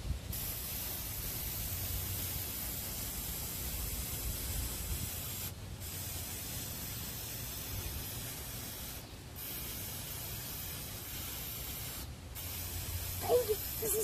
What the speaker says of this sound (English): Not so close. You don't want to have it so close to the thing.